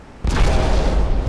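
Casemate-mounted 6-inch naval guns in Ultimate Admiral: Dreadnoughts, on an 1890-era Italian warship, fire armour-piercing shells: a sudden heavy boom that rolls into a sustained, loud rumbling roar of gunfire.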